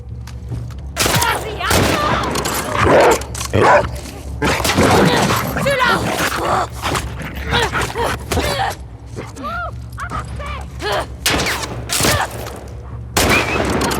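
Loud bursts of gunfire and booms in the video game The Last of Us Part II, with a dog barking intermittently through the chaos and a player's voice talking over it.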